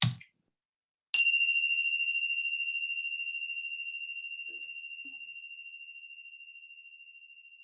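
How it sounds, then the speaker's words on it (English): A Tibetan bell is struck once, giving a single clear, bright tone that rings on and slowly fades over several seconds in near silence. "I picked up this bell in Tibet many years ago."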